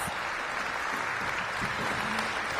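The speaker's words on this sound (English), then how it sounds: "Give Chairman Mendelson a big round of applause" Audience applause for Chairman Mendelson at a DC summer programs announcement, a steady wash of clapping that sounds fairly distant and even, with no voices over it.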